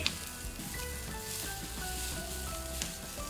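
Green chillies and chopped onions frying in oil for a black sesame chicken curry, a steady close sizzle with soft crackle running the whole time and one brief clink near the start.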